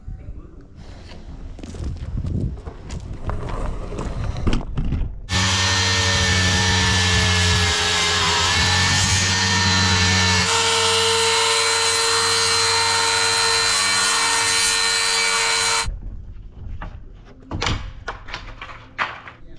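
A power tool cutting a rabbet along the corner of a wood block for a porch build, a loud sustained whine of about ten seconds with a pitch change midway, with sparse handling clatter before and after.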